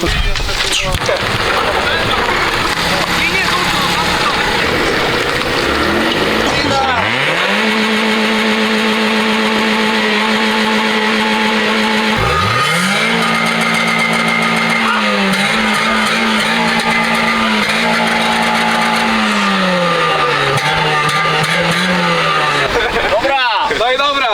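An old junker car's engine revs hard through a loud exhaust, rising and falling in repeated bursts with sustained droning pitches between, very close and loud, with voices briefly underneath.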